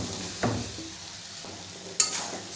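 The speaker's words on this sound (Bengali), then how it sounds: "সয়াবিন আলু দিয়েও মশলার সাথে খুব ভালো করে আমি কষিয়ে নেব" Soybean chunks and potatoes stir-fried in spice paste, a close, steady sizzle punctuated by two distinct scraping stirs of a spoon against the pan.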